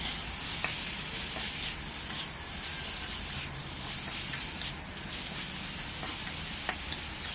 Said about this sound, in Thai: จากนั้นก็ทำการใส่ พริกชี้ฟ้าแดงนะครับ เพื่อเพิ่มสีสันนะครับ